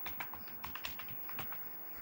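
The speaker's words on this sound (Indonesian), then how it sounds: "ketikkan passwordnya dulu, baru kita enter" Rapid, close keystrokes on a computer keyboard as a password is typed, a steady patter of light clicks with no voices.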